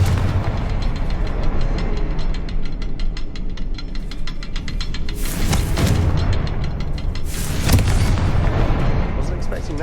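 Bombarda and Confringo spell blasts in the video game Hogwarts Legacy, inside a mine, as a run of rumbling booms and a couple of sharp bursting explosions over a continuous low game soundscape.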